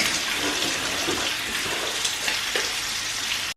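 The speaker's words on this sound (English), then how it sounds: "Then I'm just going to rinse out the bowl and rinse off the whisk" Tap water runs steadily as a mixing bowl and whisk are rinsed in a kitchen sink, a continuous close hiss with small splashy bumps from the utensils, with no voice.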